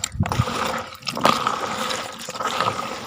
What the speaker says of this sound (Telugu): నీళ్ళు పోస్తా తర్వాత